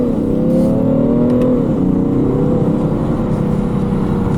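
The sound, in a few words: 2017 BMW 335d M Sport xDrive engine during test drive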